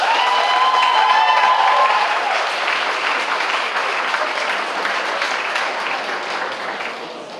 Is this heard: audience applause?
yes